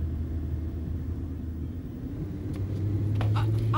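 A car drives along with a steady low engine rumble that holds constant throughout, rising slightly toward the end.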